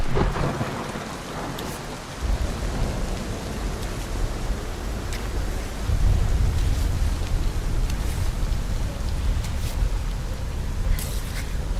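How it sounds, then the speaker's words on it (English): Steady heavy rain with rumbling thunder in the mountain-climbing game Cairn, a continuous downpour hiss that deepens into a low rolling roar midway, with scattered sharp drop impacts. "I don't know if we're doing that while it's raining, guys."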